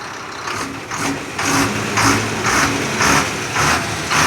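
An overhauled engine idles steadily with a rhythmic, even beat, pulsing about twice a second at close range, loud and alone with no voices.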